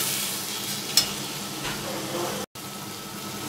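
A prawn curry cooked with tender coconut gets a gentle stir after sugar is added, a soft close sizzle with one bright clink from the utensil and a very brief dropout near the end.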